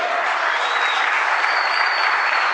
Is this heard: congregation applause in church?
yes